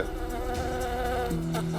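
Honey bees buzzing, a loud, steady droning hum close by that shifts pitch slightly partway through, with no voices.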